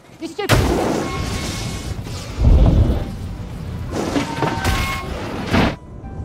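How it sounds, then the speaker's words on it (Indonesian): Film bomb blasts erupt near a group of people, loud booming bursts with rumbling debris noise, several heavy impacts spread across a few seconds. "tiba-tiba sebuah bom meledak di dekat mereka"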